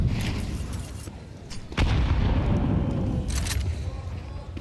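A grenade bursts with a heavy boom in a Counter-Strike match, followed by rumbling debris under a busy mix of game sounds and sharp clicks.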